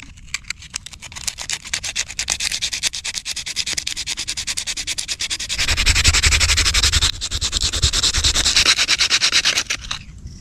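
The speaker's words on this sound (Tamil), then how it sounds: "இந்த ஸ்லோப்பை அப்படி தேய்ச்சி எடுத்துக்கலாம் நம்ம உப்புத்தாள் வச்சு" Sandpaper rubs the slope of a handmade wooden boomerang in fast, close back-and-forth strokes. The scraping grows heavier and denser midway before easing back, with no talk.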